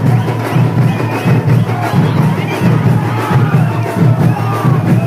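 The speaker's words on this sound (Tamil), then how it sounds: "அதனால அந்த ஊர் மக்கள்லாம் எவ்வளோ சந்தோஷமாக கத்துறாங்கன்னு பாருங்க." Crowd of villagers at the Aayankulam Mutharamman temple Dasara festival shouting and cheering joyfully, a dense, loud, continuous roar of many voices with rising and falling surges close by.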